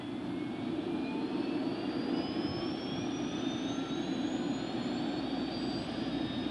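An OH-58A Kiowa helicopter turbine engine spooling up during start, a steady loud broadband roar with a rising whine climbing in pitch as the rotor begins turning, continuous and close.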